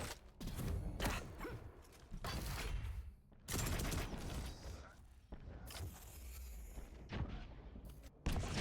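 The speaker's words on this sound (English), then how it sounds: "Fab was spamming the rockets preemptively" Rockets launched repeatedly in the video game Quake Champions, a series of loud whooshing blasts and explosions at irregular intervals with mechanical game sounds and a commentator's voice underneath.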